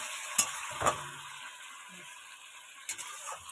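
Tomatoes frying in a pan while being stirred, with a soft continuous sizzle broken by a few distinct scraping strokes of a utensil against the pan.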